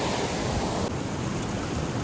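Flooded river water rushing past, a dense steady roar of flowing water up close with no talk.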